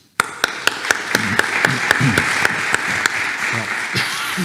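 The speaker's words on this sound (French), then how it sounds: "je voudrais qu'on vous applaudisse" A crowd in Reims applauds the mayor, starting abruptly after a short silence and keeping up a steady clatter of clapping with a few sharp, louder individual claps standing out near the front.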